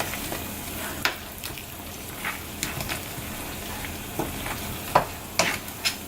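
Shrimp paste sizzles and fries in a pan for prawns in caramelized garlic sauce, with a steady close crackle broken by scraping stirs and sharper spatula knocks, and no talking.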